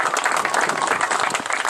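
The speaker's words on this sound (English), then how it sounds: "How about a big round of applause for everybody?" Brief, loud round of applause from an audience at a long drive golf event announcement, dense clapping filling the moment without pause.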